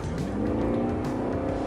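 Hybrid car launching hard from a standstill, a loud, continuous engine drone and rush of acceleration with no break, heard alone.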